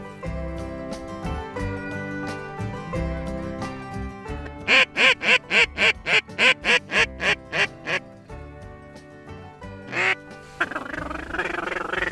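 Ducks quacking out near Devil's Lake, North Dakota, with a strong run of about ten loud, evenly spaced quacks mid-clip over a tonal background, then a few more calls toward the end.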